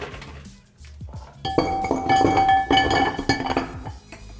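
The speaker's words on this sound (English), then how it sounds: "And now we're going to add a little bit of ice to this." Ice cubes dropped into a mixing glass while building a Blood and Sand cocktail: a bright clattering burst of clinks and knocks that follows a quiet, soft shuffle and then rattles on for a few seconds close up.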